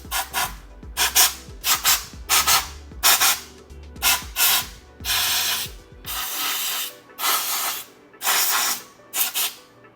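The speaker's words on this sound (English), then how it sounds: "I'm actually going to take a little bit of compressed air and blow the inside of it out" Compressed air blasts out the inside of a wheel hub on a BMW G80 M3, coming as about ten loud, hissing bursts of varying length separated by short pauses, with faint clinks early on.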